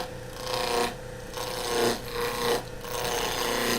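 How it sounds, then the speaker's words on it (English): A skew chisel makes slicing cuts on a wood spindle turning on a lathe, producing a steady raspy shearing hiss in several strokes, each easing off briefly before the next, close and clear with no talk. "all I'm going to do first is make some slicing cuts"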